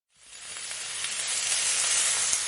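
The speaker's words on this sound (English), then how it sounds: "Hear that sizzle?" Food hits a hot surface and sizzles, a bright hiss that swells quickly and then holds steady and loud, close up with no voices.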